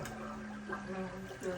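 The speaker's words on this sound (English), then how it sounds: "Give it a flush." Water rushing and gurgling in a toilet being flushed during a repair in Queens, New York, a steady low churning wash with a humming tone, heard close up indoors under people talking.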